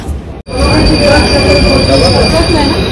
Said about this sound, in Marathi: आणि ट्रेन आता निघाली आहे डहाणू स्टेशनवरून